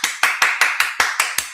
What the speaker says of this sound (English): this is what the people are clapping for